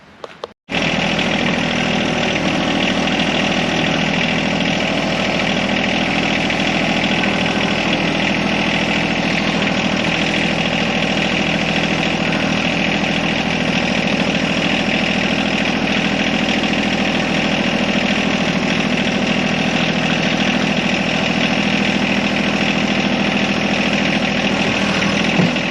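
A tractor engine idles steadily and loudly close by, a constant low rumble with mechanical vibration, starting abruptly after a brief pause; no talking.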